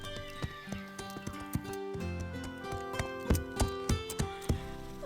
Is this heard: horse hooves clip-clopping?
yes